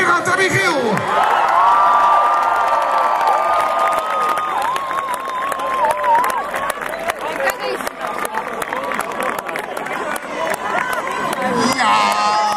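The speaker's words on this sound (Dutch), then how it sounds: "Mag ik jullie applaus?" A large crowd at a live 3FM Serious Request charity event in Enschede applauds and cheers loudly and continuously, with whoops and shouting voices mixed into the dense roar.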